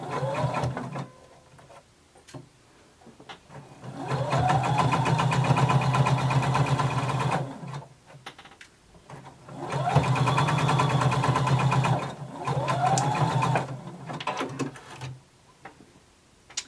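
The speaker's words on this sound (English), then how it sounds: "we're going to start at the center back, and we're going to sew along the edge, over the rounded edge" A sewing machine stitches a 5/8-inch seam along a rounded fabric edge, starting from the center back, in close, whirring bursts of several seconds each, with quiet pauses between runs.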